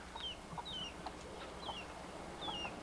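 Bantam chickens cluck softly in short repeated calls, fairly faint against steady outdoor background noise, with no talking.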